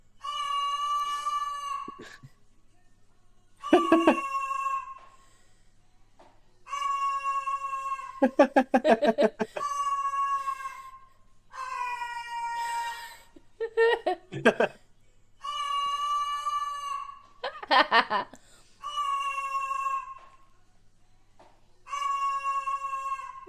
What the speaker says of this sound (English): Bird screaming into a cup.